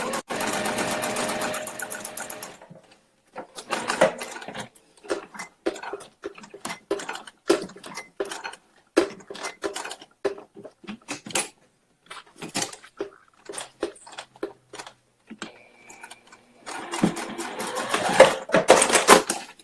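A sewing machine stitches a beauty bag in quick rattling bursts of needle clatter, stopping and starting in several runs, with brief pauses of near silence between them.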